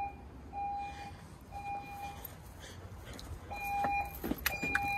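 Fire alarm sounding inside a generator building, heard faintly from outside as repeated short electronic beeps in an irregular pattern over low background rumble, with no speech.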